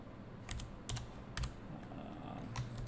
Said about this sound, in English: And then just type the settings here.